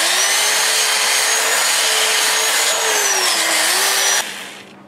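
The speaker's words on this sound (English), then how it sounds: "Piece of 80 grit in here. I'm not gonna spin it. I just want to see how that sands." Steady, loud abrasive rubbing comes from a lathe-driven sanding pass on a cherry plum wood turning with 80 grit paper, a continuous whirring hiss that holds for about four seconds and then stops abruptly.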